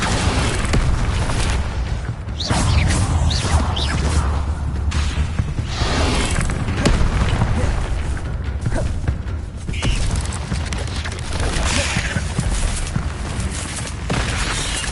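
Hogwarts Legacy combat with Incendio fire spells cast over and over, dense whooshing bursts and booming thuds layered continuously over a steady game soundtrack, while a voice shouts spell names throughout.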